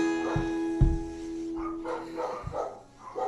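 Dogs bark outside a door: a few sharp barks spread across a few seconds, heard under a held sustained tone and some low background voices.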